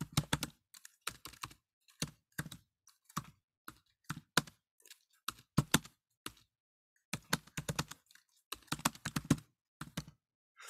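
Close, crisp typing on a computer keyboard comes in irregular bursts of rapid key clicks separated by short pauses, with no talking.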